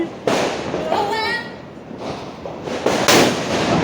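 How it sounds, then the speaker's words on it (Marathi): A large Diwali firecracker bomb bursts with a loud, sharp blast, followed by crackling and excited voices of people celebrating nearby, with the noise continuing at a steady level through the short stretch. "मामा फटाके लावतोय मोठा बॉम्ब होय बॉम्ब लावतोय"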